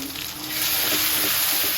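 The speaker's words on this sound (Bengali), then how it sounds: "এখন আদা রসুনটাও দিয়ে দিলাম ভাজার জন্য" Ginger and garlic sizzle steadily in hot oil during home cooking, a dense, continuous hiss that swells a little louder after the first half second and holds close and even.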